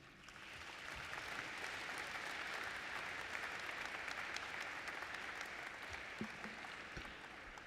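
Sustained applause from a large audience at a college presidential inauguration ceremony, dense steady clapping that swells in the first second and holds at an even level, with a few sharper claps standing out near the end.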